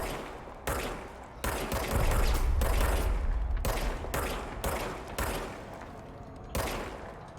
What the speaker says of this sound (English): Starts firing it wildly.